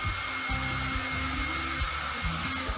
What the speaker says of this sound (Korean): 콘센트에 불이 있는 상태에 헤어 드라이기를 연결해 보겠습니다